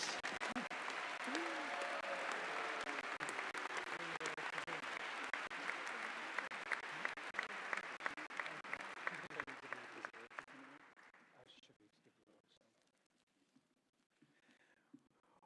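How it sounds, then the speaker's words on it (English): Audience applause at the finale of an international piano competition, sustained dense clapping that fills the hall for about ten seconds before thinning out and fading to scattered claps and quiet. "Let's give them a collective round of applause"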